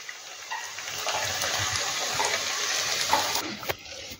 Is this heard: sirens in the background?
no